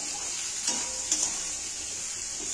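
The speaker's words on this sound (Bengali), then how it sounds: "হলুদটা দিয়ে ভাজা মতন করে একটু নেড়ে নেব" Turmeric is stirred into bitter gourd and onion in a pan, giving a soft, even frying hiss broken by a couple of light spatula scrapes.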